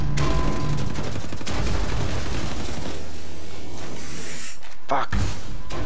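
Dense, loud gunfire from Wolfenstein: The New Order fills the whole stretch with rapid bursts and explosions, ending in a couple of sharp shots.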